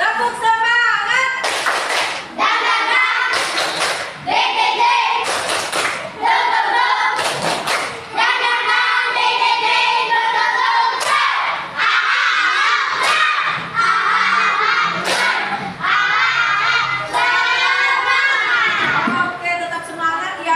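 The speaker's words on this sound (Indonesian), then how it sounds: "Untuk selanjutnya kita tepuk semangat dulu ya." Primary school children in a classroom perform a rhythmic 'tepuk semangat' clapping chant, with sharp, evenly spaced claps between loud shouted chant words, all voices together and close.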